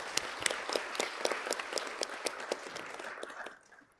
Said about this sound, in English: please join me in giving a big round of applause to thank all the ministers for your time and intervention